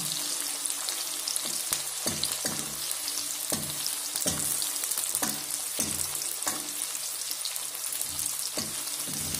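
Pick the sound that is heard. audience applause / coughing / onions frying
onions frying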